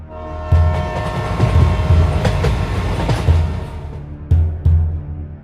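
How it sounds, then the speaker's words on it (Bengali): A train pulls into a station, its wheels rumbling and clattering steadily. Several loud, close horn blasts sound over it, with a final pair of short honks near the end and no voices. "ট্রেন চলে এসেছে, যা তাড়াতাড়ি উঠে পড়।"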